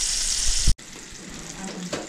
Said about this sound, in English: The first batch is in the fire. Sauteed crab.